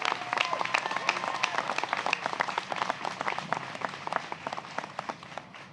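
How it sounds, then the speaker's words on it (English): Applause from an audience at an event on animal protection: a moderate, sustained patter of many hands clapping, somewhat distant and steady throughout. "They certainly deserve a round of applause."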